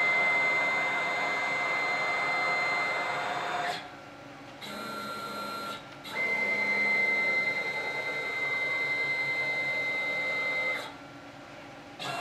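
A 6090 CNC router gantry jogging under NC Studio control, a steady whirring motor drone with faint high whine that drops away briefly twice and resumes, heard close with no talk.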